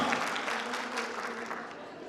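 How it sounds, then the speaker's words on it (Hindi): Audience applause at a hair extension demo event, a dense steady wash of clapping that carries evenly through the whole stretch at moderate loudness. "जोरदार तालियां एक दफा।"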